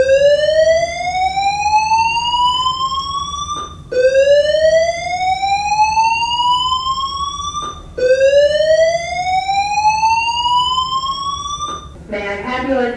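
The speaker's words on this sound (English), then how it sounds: "There has been a fire alarm reported in the building." A school building fire alarm sounds loudly in three rising whoop sweeps, each about four seconds long and separated by brief sharp breaks, with a recorded voice starting an announcement at the end.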